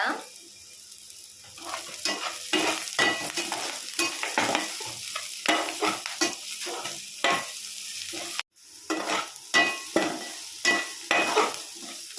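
Onions with turmeric, chili powder and salt stirred in a pan for onion fenugreek pulusu, giving a steady close sizzle broken by repeated scraping strokes of the spoon, with a brief dropout near the end.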